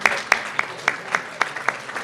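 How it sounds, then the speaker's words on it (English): Audience applause at a chamber of commerce legislative reception on a college campus, heard as a short burst of sharp, fairly close claps in an uneven rhythm, fading after about two seconds. "Let's have a round of applause for Stonehill College and hosting us."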